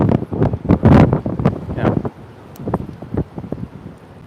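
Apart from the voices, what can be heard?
heavy wind blowing on microphone outdoors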